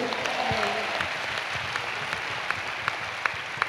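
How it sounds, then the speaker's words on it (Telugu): A church congregation claps loudly together for Jesus in worship, with dense, sustained applause and a few sharper individual claps standing out near the end. "మన రక్షకుడు యేసయ్యకి బిగ్గరగా చప్పట్లు కొడుతూ."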